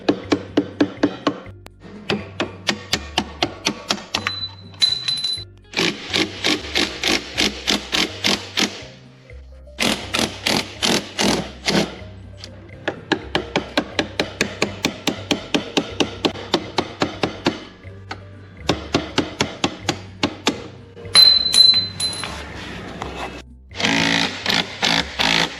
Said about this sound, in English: why don't you try to loosen it up using the impact wrench